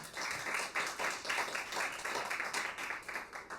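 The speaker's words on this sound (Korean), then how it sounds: "다시 한번 박수로 또 격려를 해주시기 바라겠습니다" An audience claps at a small traditional Korean music recital to encourage the performers after a piece, with dense, moderately quiet applause that holds steady throughout.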